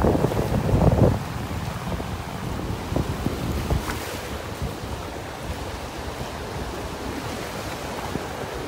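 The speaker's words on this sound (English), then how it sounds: "These waves have the water churned up so much here, you can't see the bottom now." Ocean waves wash onto a beach in North Naples, Florida, heard as a continuous churning surf with heavy wind buffeting the microphone, loudest in the first second, with no talk.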